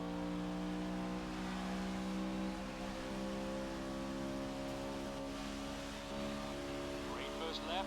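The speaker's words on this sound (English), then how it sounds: "The car is still going fast." Race car engine in a racing video game, a steady droning tone with sustained harmonic whine holding speed, mixed under game sound with a voice talking over it.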